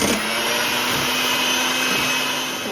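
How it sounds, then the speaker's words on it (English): An electric mixer beats three egg whites with sugar and vanilla until stiff and glossy, a steady loud whirring drone with a constant motor whine, close and uninterrupted. "And let's beat that until stiff and glossy."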